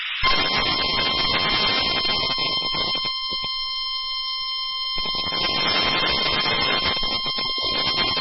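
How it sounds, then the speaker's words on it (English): A weather radio sounds its warning alarm test, a steady, loud, unbroken high electronic tone that holds for the whole stretch with no talking. "This is a test of the emergency alert system in your weather radio's warning alarm."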